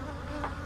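Honeybees buzz around hive nucs in a brief, steady low drone at close range, with a slight swell just before it cuts off.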